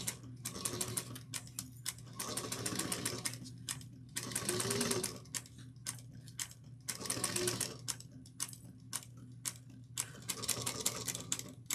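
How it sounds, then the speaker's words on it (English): A sewing machine stitches a tote bag seam in repeated rapid bursts of mechanical whirring and needle clatter, separated by short pauses, close and clear with no talking. "we're going to sew this down at 3/8 of an inch. Back stitch at the beginning and at the end"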